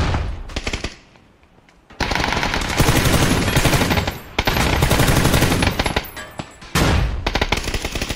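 Heavy gunfire in the video game PUBG, loud close bursts of rapid automatic shots in long sustained volleys, broken by a brief lull and then resuming, with no talk over it.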